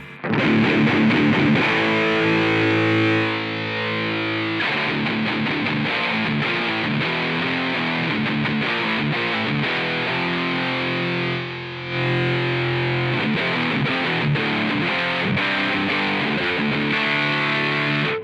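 An electric guitar runs through a high gain distortion pedal in AmpliTube 5, thick saturated sustained chords and riffs played loud and alone, with a brief gap near the middle.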